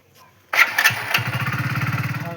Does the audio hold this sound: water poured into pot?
no